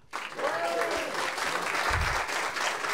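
Applause breaks out from the audience at a Star Wars comedy night, a sudden full burst of clapping that holds steady, with scattered voices and a low thump mixed in.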